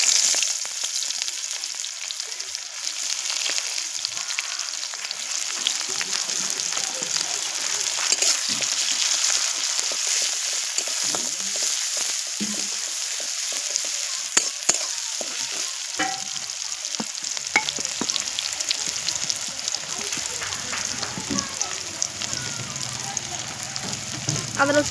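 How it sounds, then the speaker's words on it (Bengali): Chopped onions fry in a pan in a home kitchen, giving a continuous bright sizzle with crackles and occasional stirring clatter throughout. "পেঁয়াজগুলো আমি ভেজে নেব।"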